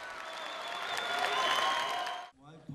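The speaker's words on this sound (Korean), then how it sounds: "기립박수까지 받았습니다." A concert audience gives a standing ovation after the finale of a Christmas concert in Germany, dense, loud applause that builds, then cuts off abruptly as a voice begins speaking.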